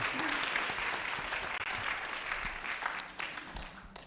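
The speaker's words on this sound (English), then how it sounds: "Wonderful round of applause," Wedding guests applaud steadily and densely for about four seconds after the couple are pronounced married, a full room of clapping at an even, close level.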